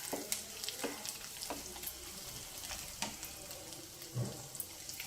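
Dried prawns frying with turmeric for a okra and prawn fry, a soft close sizzle broken by repeated scraping stirs and light clinks, fairly quiet and with no voices.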